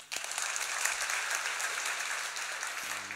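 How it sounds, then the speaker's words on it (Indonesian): An audience at a church sermon bursts into steady applause that holds loud and dense for about three seconds before thinning slightly at the end. "Tepuk tangan saudara."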